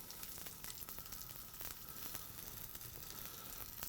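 Pork sears in a pan with a quiet, steady sizzle and scattered crackles, heard close but faint, with no talking.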